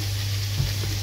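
Red and green peppers hit a hot pan for a Brazilian shrimp moqueca, giving a steady close sizzle with a couple of soft stirring knocks near the middle and end.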